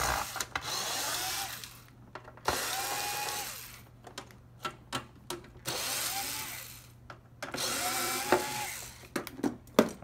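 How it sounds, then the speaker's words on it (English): Torx screws are being backed out of an Xbox One S console, with bursts of a small electric screwdriver whirring in short runs separated by clicks and handling noises, close by and fairly quiet. "we're just gonna go ahead and remove these torque screws that I'm removing right now"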